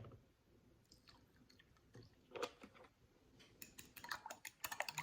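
One egg beaten with vanilla milk for French toast, quick clicking taps of a fork against a bowl, sparse at first and then faster and louder in close, irregular bursts, no talk.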